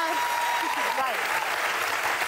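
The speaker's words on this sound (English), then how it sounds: "Everybody was clapping there." Audience clapping at a political gathering, a loud steady burst of many hands filling the whole moment, with a few faint voices calling out underneath.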